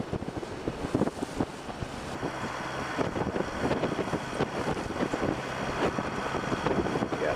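A 20-knot wind buffets the microphone on a cruising boat, giving steady, loud roaring and gusting noise throughout with rumbling thumps and broadband rushing.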